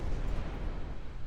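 Torpedo strikes in the naval war game Ultimate Admiral Dreadnoughts land as a dull, booming rumble of muffled explosions, heavy and low, rolling on briefly with no talk.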